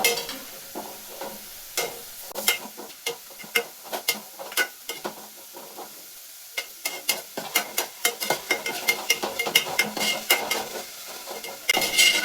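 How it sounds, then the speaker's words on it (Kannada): Onions deep frying in a pan for pepper chicken, a bubbling sizzle under rapid, irregular clacks and scrapes of a utensil stirring against the pan, close and busy, with a brief lull midway. "ಈರುಳ್ಳಿ ಬಂದು ಡೀಪ್ ಆಗಿ ಸೀದು ಕರ್ಕಲಾಗಬೇಕು."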